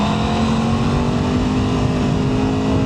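Norton Manx R motorcycle engine held steady in second gear around 4000 rpm, a loud, continuous droning hum with wind rush on an open road and no break in the sound.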